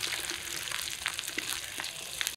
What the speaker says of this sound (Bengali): এক কড়াই মাছ ভাজা হতে হতে আলুগুলো আমার ছেলা হয়ে গেছে